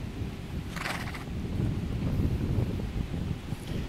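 An overo lobuno horse gives a brief whinny early on, outdoors amid strong wind noise and low rumbling, with no talk.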